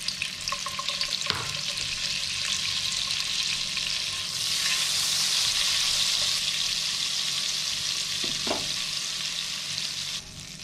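Butter and oil frying in a pan with garlic and herbs for a garlic butter steak, a steady broadband sizzle throughout that swells louder midway, with a couple of brief clinks from a utensil, no talking.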